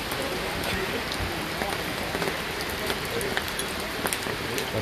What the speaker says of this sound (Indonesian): Lagi hujan ini.